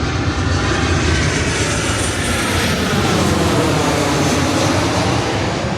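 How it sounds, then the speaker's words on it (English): A fixed-wing airplane passes overhead, its engine a broad, continuous roar that stays steady and loud for several seconds, with no voices over it. "There's a plane coming."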